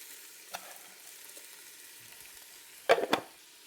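Peppers, chilies and salt sautéing in a home kitchen pan give a soft, steady sizzle with a brief scrape early on and a louder burst of stirring clatter near the end.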